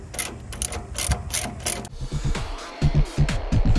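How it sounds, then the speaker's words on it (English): A 3/8 ratchet on an extension with a 12mm socket loosens the battery hardware on a 1987 Gravely riding mower, with steady, close, crisp pawl clicking that turns into slower, heavier ratcheting strokes. "I've got a 3/8 ratchet and an extension with a 12mm socket, and I'm going to come down carefully and loosen up that hardware."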